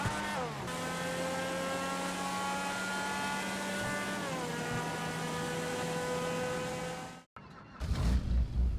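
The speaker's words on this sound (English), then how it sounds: "one of the highest pitched sounding cars in the game. Unique, and this thing just screams" A high-pitched, screaming car engine in the video game GTA Online holds a steady, loud whine with stepped pitch shifts, then cuts off abruptly near the end before a short burst of different noise.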